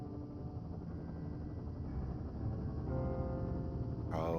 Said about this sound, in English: There's the helicopter. They'll land back where you hiked up.